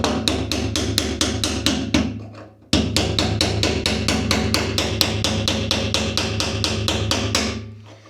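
A hammer drives a brass drift around the locking ring of a Dodge Diplomat fuel tank sending unit in a fast, even run of sharp ringing metallic taps, briefly pausing before resuming, loud and close.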